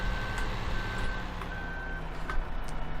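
A truck in Farming Simulator 15 gives off steady evenly spaced reversing beeps over a low rumbling engine idle, moderately loud and continuous for the whole stretch.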